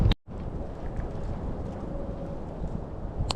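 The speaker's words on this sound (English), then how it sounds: "The wind is picking up out here" Wind blows outdoors at a lake during crappie fishing before an ice storm, a steady rushing gust buffeting the microphone close up after a brief cut near the start.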